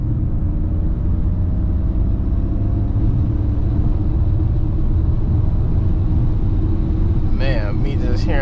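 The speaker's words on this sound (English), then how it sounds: "me just hearing that whine every time, I love it." Inside a 2024 Ford Mustang Mach-E under way, a thin electric-motor whine rises gradually over heavy low road rumble, with a brief burst of higher chirping sounds near the end.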